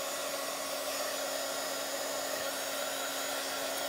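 A hair dryer blows steadily at close range, drying paint on a Bible journal page, a constant whirring rush with a fixed motor hum that runs unbroken without any talk.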